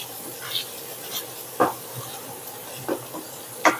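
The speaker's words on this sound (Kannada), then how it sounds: "ಈ ಸೌಂಡ್ ಬರ್ತಾ ಇದೆಯಲ್ಲ ಸುರು ಸುರು ಸುರು ಅಂತ ಆ ಸೌಂಡ್ ಹೋಗೋವರೆಗೂ ನಾವು ಇದನ್ನ ಬಾಡಿಸ್ಕೋಬೇಕು" Onion and garlic thokku cooking in oil, a soft continuous sizzle with a few sharper scraping stirs of a spoon against the pan at irregular moments.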